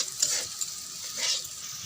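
Bitter gourd and potato frying in a pan, a steady close sizzle with a few brief scraping stirs of a spatula against the pan.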